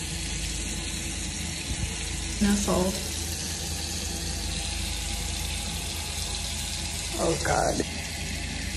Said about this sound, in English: So I turned on the water.